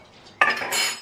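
A small bowl and spoon are picked up while gathering supplies for homemade coconut-oil day cream. A brief close clatter of hard tableware is followed by a short rattle.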